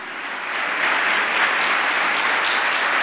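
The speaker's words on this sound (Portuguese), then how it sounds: "Aplauda o Senhor." Steady, dense applause from a church congregation, swelling within the first second and then holding a constant, full clapping wash to the end with no talk over it.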